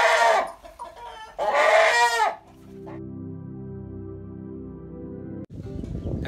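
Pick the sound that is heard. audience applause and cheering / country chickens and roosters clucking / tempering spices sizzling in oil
country chickens and roosters clucking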